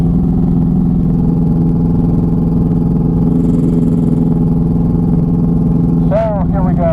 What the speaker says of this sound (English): We're taking off runway 10 and this will be a short trail hop.